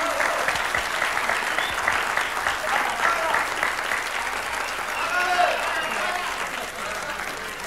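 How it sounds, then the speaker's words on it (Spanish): Steady audience applause at a stand-up comedy night in a café, a crowd clapping continuously at moderate level with a few scattered voices mixed in. "Un aplauso para Jacqueline"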